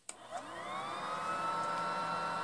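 A U.S. Avon IPAPR hybrid blower unit clicks on and spins up into a steady whining hum, faint and close, with rising tones that level off into a constant whir.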